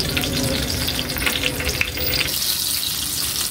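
Eggplant fries in cooking oil with a loud, crackling sizzle, close and busy throughout, easing slightly toward the end, with no talk.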